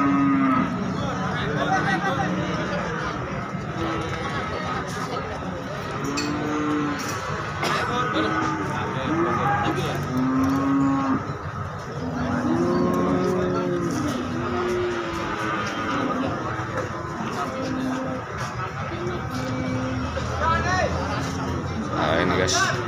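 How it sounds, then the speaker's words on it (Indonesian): Pegon breeding cows at a busy cattle market low repeatedly, several moos overlapping at middling distance, under a constant murmur of crowd chatter and occasional vehicle noise. "Ini sapi-sapi indukan."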